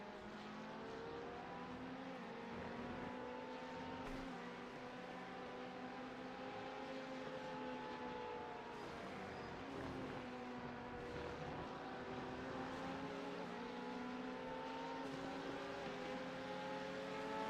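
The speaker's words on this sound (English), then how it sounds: "I was struggling to hear you over the car engine." Race car engine in the iRacing sim, an LMP2 prototype during a multiclass endurance race at Petit Le Mans, droning steadily with rising and falling pitch as it shifts gears, continuous and fairly quiet, no talking.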